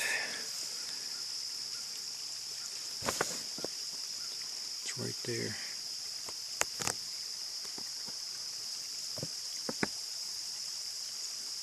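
Steady rushing of a creek flowing in the background at a Red River Gorge, Kentucky backcountry campsite, with insects buzzing and a few clicks and footsteps; a person speaks briefly over it.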